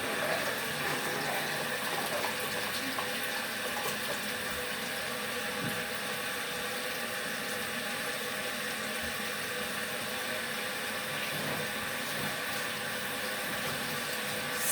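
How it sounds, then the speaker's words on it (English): Portable washing machine refilling with water, a steady broadband rush of running water with a low motor hum underneath, continuous and fairly close throughout. "I'm going to just refill it up with some water and let it wash like that."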